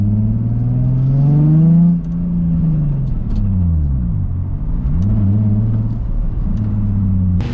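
A drift car driving a lap in a lot: loud close engine hum that revs up, drops as a shift comes, then rises and falls repeatedly through the turns, with no talk.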